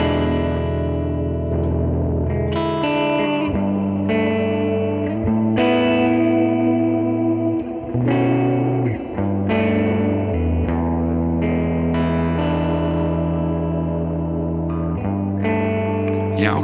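Electric guitar played through Boss GT-1000 effects patches, loud and sustained, with distorted chords and layered echo and modulation, ringing continuously throughout with no talking.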